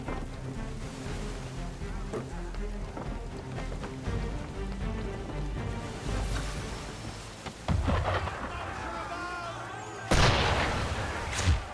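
In Assassin's Creed III, a ship fires cannon at a boat: deep booms and rumbling blasts over storm-like rain and wind, with a loud burst near the end and voices talking underneath.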